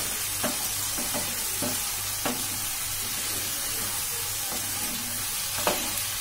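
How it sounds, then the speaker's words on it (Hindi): Tomatoes fry in a pan with a steady, loud hiss and sizzle, broken by occasional brief scrapes of stirring. "सिर्फ टमाटर नरम होने तक हमें इसको फ्राई करना है।"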